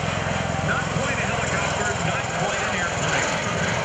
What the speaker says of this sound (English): we just saw a very unusual takeoff